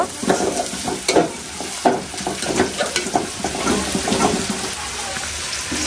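Aloo dum potato curry is stirred in a pan in a busy home kitchen, with a sizzling hiss under repeated close scrapes and knocks of the spoon in an uneven rhythm.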